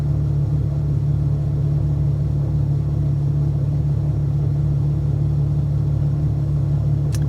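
Radiator cooling fans on a Ferrari FF run as a steady, loud low whir and rumble with no break, a constant airflow drone heard alone throughout.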